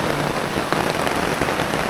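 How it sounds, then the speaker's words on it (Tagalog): Steady rain pours down on a surface, a dense, close hiss of drops with no voices. "May hinahina na yung ulan"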